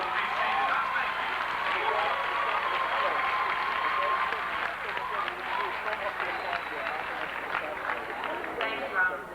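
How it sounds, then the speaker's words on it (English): An audience at a Black Solidarity Day event applauds itself, steady dense clapping from a large crowd that eases slightly toward the end, with some murmuring underneath. "Now give yourselves a round of applause and be seated."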